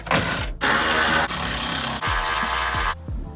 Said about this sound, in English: So we're gonna go start bolting it down.